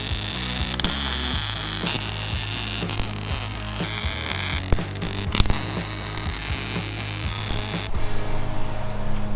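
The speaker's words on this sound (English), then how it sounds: "we can weld the insides of these front shackles" Welding on the front leaf spring shackles of a vehicle frame, a dense continuous buzzing crackle with steady hum and occasional clicks, close and loud, stopping abruptly near the end.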